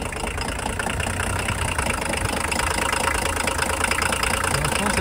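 A Volvo 240 engine idles steadily close by, a continuous low rumble with a slightly rough, knocking texture that holds even throughout.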